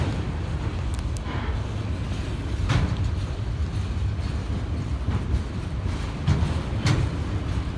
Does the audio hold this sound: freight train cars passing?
yes